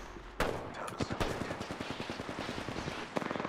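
Rapid automatic gunfire in the video game Apex Legends rattles out in a loud, close sustained burst, followed by a second short volley at the end.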